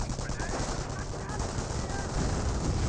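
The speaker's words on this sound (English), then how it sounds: "Volks Grenadiers still firing away" Infantry gunfire in the Company of Heroes video game, a dense continuous battle din of rapid rifle and machine-gun bursts layered together, steady and loud across the whole stretch.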